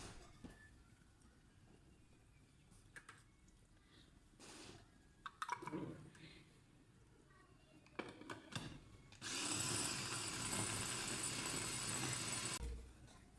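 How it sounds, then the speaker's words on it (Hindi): An electric chopper mincing raw chicken runs in a loud, steady whirring burst for a few seconds, preceded by scattered clunks, taps and handling noises in a quiet kitchen. "मशीन को हम भी चलाएंगे, चॉपर को।"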